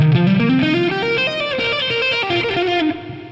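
A distorted electric guitar plays a solo lick, fast bending notes with heavy effects, loud and upfront with no voices.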